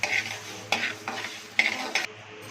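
Cumin seeds dry roast in a pan, with dry scraping and stirring, several sharp scrapes of a spoon against metal and a faint crackle underneath, no talking.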